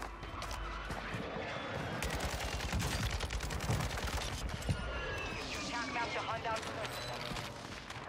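Dense bursts of automatic gunfire rattle in a first-person shooter video game, rapid rounds overlapping with crashes and impacts throughout, loud and continuous for eight seconds.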